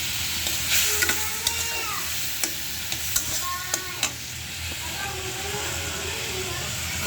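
Meat sizzles in a pan with a spoonful of ground coriander added, a constant loud frying hiss broken by sharp stirring knocks and scrapes of the spoon; a voice speaks faintly underneath.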